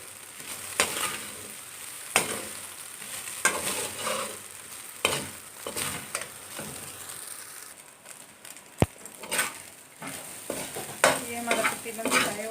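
Chicken and vegetables frying in a pan over medium heat, a steady sizzle broken by repeated scraping and clinking of a utensil against the metal, with a sharp knock near the end.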